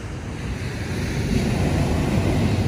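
Ocean waves washing onto a beach at sunset, a steady, full rushing surf with slight swells, mixed with some wind buffeting on the microphone and no talking.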